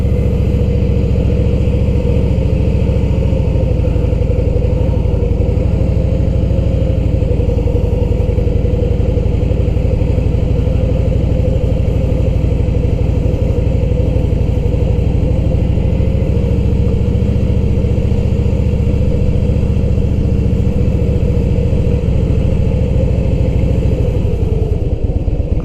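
A motorcycle engine runs at low, steady speed while the rider slips the clutch and drags the rear brake, a constant close mid-pitched drone with little revving throughout.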